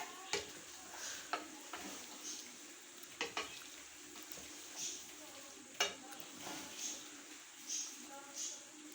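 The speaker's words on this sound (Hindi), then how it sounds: "अब मलाई को इसमें अच्छी तरीके से मिक्स कर लेंगे।" Cream is stirred into a chicken malai gravy in a pot, with a spoon scraping and knocking against the pot in intermittent strokes over a soft sizzle, and some speech at times.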